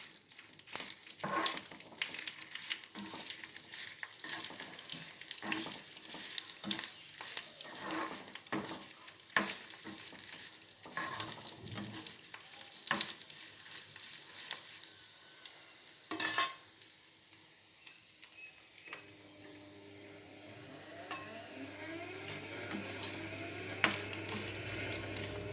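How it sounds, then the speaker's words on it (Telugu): Dried red chillies frying in oil in a pan, with a low crackling sizzle and frequent stirring clinks and scrapes throughout, then a steadier hum-backed sizzle toward the end, close but fairly quiet. "ఆయిల్ పోసుకొని నేను వేయించుకుంటున్నాను ఎండుమిర్చి."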